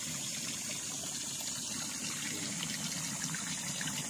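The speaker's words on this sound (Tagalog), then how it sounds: "Tuloy-tuloy yung agos ng tubig kahit tag-init." Natural spring water flows steadily out of the ground on a farm lot beside a river in Calauan, Laguna, making a continuous soft gushing and trickling hiss with no talk over it.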